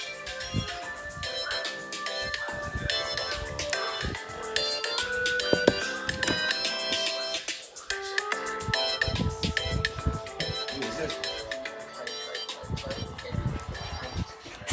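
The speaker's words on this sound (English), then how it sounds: "If you guys hear ringing." A phone ringtone plays as a repeating electronic melody, sustained and fairly steady, mixed with other sounds and some talk.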